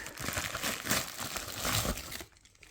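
A small plastic parcel bag is cut open with a nail file, giving close crinkling and rustling that stops abruptly near the end.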